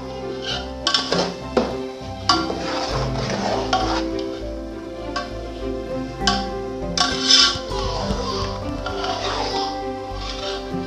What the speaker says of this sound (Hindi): चावलों को चीनी में अच्छी तरह से मिक्स कर लिया